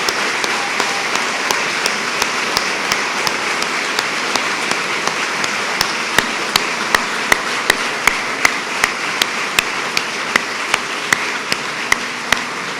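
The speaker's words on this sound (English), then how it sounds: "Let's give them all a great round of applause." Sustained applause from an audience at a New York tourism campaign announcement, a dense steady wash of clapping lasting throughout with a few sharper, louder claps punctuating it.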